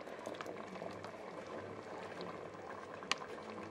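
Chickpeas being rinsed under running water in a home kitchen, a steady faint stream and gurgle with a light clink near the end, no voices.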